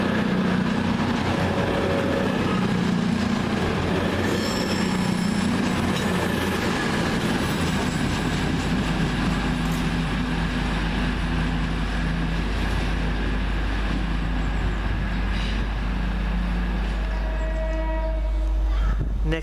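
Class 220 train 220-032 passes through Stone station, a loud continuous rush of wheels and carriages with clattering and a brief high squeal near the start.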